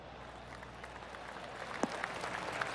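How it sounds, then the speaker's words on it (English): Scattered polite golf clap from spectators at a golf course after a shot, a soft, steady patter of distant hands with a couple of sharper claps standing out near the end. "Oh, golf clap."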